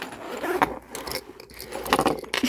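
Metallic jangling and scraping of a pencil case zipper handled up close, irregular bursts of clinking and rustling as the zipper pull rattles while moved.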